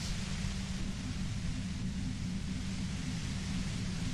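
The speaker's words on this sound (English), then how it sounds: "You hear through the white noise." Steady low white-noise hum in the video game Disco Elysium, a dense, unbroken rumbling hiss that stays at a constant level with no voices over it.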